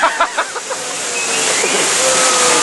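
Rushing waterfall on the Jungle Cruise ride at Disney World, a loud, continuous roar of falling water that swells and stays close, following a few brief voice-like bursts at the start.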